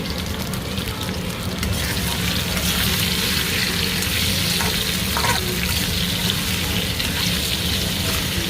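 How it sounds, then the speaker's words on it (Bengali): Mango pieces frying with salt and turmeric for a sweet-spicy mango chutney, a loud dense sizzle that holds steady throughout, close up with no talk. "ভালো করে ভাজা হয়ে গেছে আম, লবণ, হলুদ দিয়ে।"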